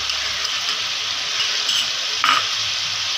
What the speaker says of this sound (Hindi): अब इसमें जो है हम ऐड करेंगे दही